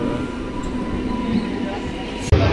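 A train rumbles past in a steady, dense roar with a faint high squeal, unbroken throughout and ending with a sudden heavy thump.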